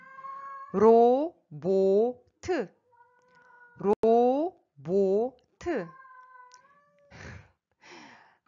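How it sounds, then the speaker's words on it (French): A house cat meows repeatedly and loudly nearby, long drawn-out calls with short pauses between them, while a person speaks a word at intervals. "Mon chat est en train de miauler"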